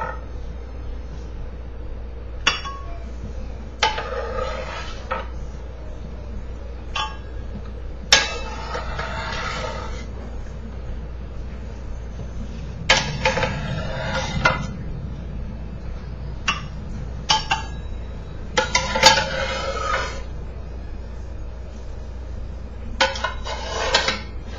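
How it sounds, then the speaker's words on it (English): Cauliflower soup with its broth is ladled into a blender, making repeated clinks and knocks of the ladle against pot and blender jar, with splashes between. The bursts come irregularly over a steady low kitchen hum, and nobody speaks. "Start ladling it into the blender."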